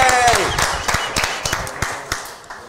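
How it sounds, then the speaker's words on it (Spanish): An audience at a comedy show applauds, starting in a full burst and thinning into scattered, fading claps, with a voice heard briefly at the start. "Un aplauso para el Guayabo Monterrey."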